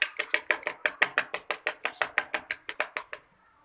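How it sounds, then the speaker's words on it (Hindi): Eggs are beaten with milk for a sweet egg paratha, a rapid, regular series of about twenty whisking strokes close by, each a sharp clack, stopping abruptly. "अब हम इसे करेंगे अच्छी तरह से बीट।"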